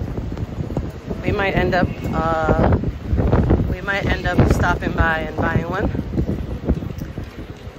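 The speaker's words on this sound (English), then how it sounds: "It's quite windy right now." Wind buffets the microphone with a steady low rumble throughout, while people talk close by over it, outdoors in Mecca.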